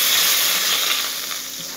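Butter melts in a hot pan with a continuous soft sizzle and crackle, close and fairly loud, holding steady and easing slightly toward the end.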